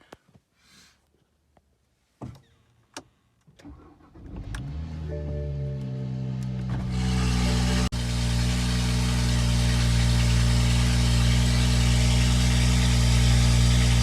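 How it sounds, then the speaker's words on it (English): A car cold start: a few clicks and thumps, then the engine cranks and catches, swelling into a loud, steady idle that holds close and even to the end. "let's just start this one off with a cold start"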